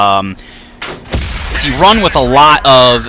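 In a tank video game, a cannon shot strikes the player's STB-1 tank with a single sharp, heavy blast, followed by someone talking close to the microphone.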